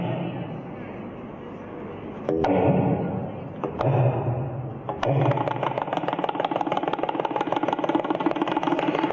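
Tabla drums imitate a scooter's kick-start attempts and engine sputtering into a steady idle, with sharp strikes followed by a dense, continuous buzzing rumble, performed live at a school lecture event.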